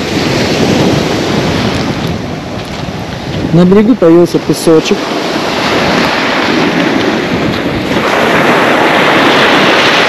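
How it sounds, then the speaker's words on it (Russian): Surf washing onto the shingle-and-sand beach at Lazarevskoye, Sochi, on the Black Sea: a steady broadband wash with some wind across the microphone, and someone talking over it briefly in the middle. "Море хорошее такое, смотрите, такая белая чистая пена."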